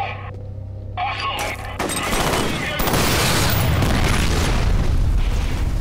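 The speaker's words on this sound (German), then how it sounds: "diesmal werde ich auf die Fässer schießen" Barrels shot and exploding in the video game F.E.A.R.: a few sharp gunshots give way to a roaring blast that swells into a sustained, dense rumble of explosion and debris.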